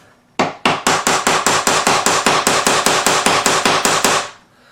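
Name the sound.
tapping a closet door hinge with a hammer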